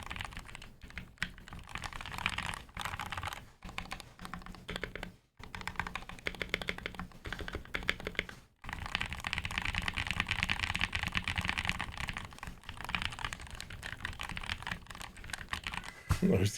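Steady typing on an E6.5 keyboard fitted with lubed Gateron Ink switches, a close, continuous run of keystrokes with a few brief pauses throughout.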